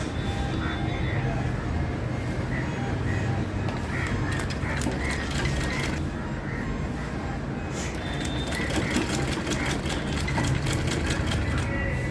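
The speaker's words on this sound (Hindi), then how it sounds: "तो चलिए इस पे हम सिलाई मार लेते हैं।" A sewing machine stitches the neckline of a designer blouse, running with a fast, close mechanical whir, its rapid needle clatter easing off and picking up again under someone speaking in Hindi.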